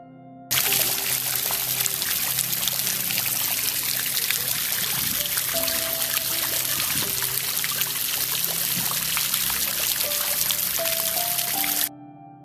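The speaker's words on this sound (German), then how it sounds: "Dort plätscherte das Wasser leise über die Steine." River water trickles and splashes softly over stones in a steady, close stream, with gentle sustained tones drifting underneath.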